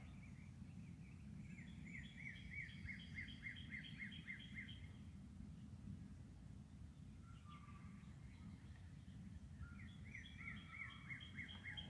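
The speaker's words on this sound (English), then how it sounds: "Oh, what bird was that?" Several small birds chirp and sing in repeated rapid bursts over a garden, carried above a steady low outdoor rumble, with pauses between phrases.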